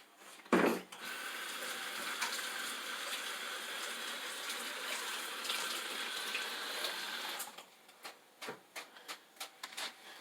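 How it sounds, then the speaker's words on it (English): Hands being washed under a running kitchen sink tap, a steady close rush of water for several seconds, then the flow stops and a few sharp drips and handling clicks follow, with no talk. "So I'm just going to wash my hands."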